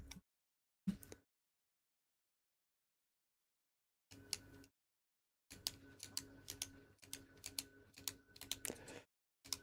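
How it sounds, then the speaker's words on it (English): A computer keyboard is typed on quietly and up close in short clattering bursts, separated by stretches of silence. "Great typing ability, David."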